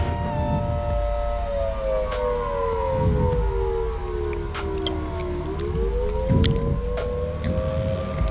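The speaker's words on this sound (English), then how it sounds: "There's the sirens going off of Funkley." Civil defense tornado warning sirens wailing outdoors in a rural South Dakota town during a tornado outbreak, a loud sustained rising and falling tone that sweeps down and back up, with wind rumble underneath.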